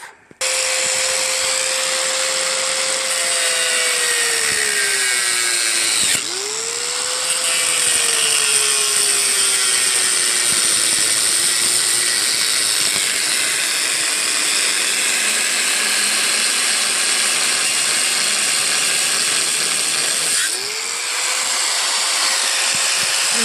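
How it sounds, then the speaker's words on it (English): A grinder cuts off rusted, seized bolts on a Sears Craftsman 5 HP Tecumseh wood chipper shredder. The loud, continuous high whine is close up, and its pitch dips and recovers as the tool loads and unloads. "to get it all off, I'm going to have to grind it off"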